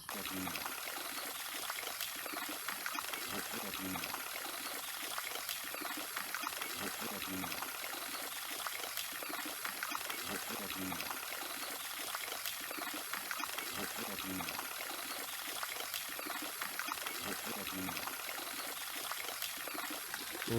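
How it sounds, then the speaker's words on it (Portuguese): Water trickles steadily from a spring into a tarp-lined pond at a cactus and succulent nursery, a continuous close splashing babble that runs without pause under faint voices. "E essa água aqui, André, ela tá depositada com lonas e ela vem de uma fonte?"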